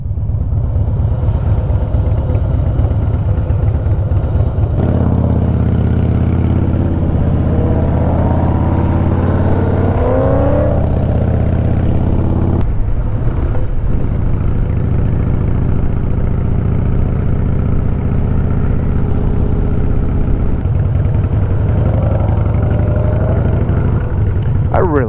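A motorcycle engine drones steadily while riding through Miami, loud and continuous with shifting pitch as speed changes, heavy wind buffeting throughout and someone talking over it.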